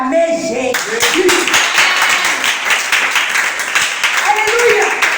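A church congregation bursts into sustained applause and clapping to acclaim Jesus during a prophetic service, a dense, steady wash of many hands with voices and singing mixed in throughout.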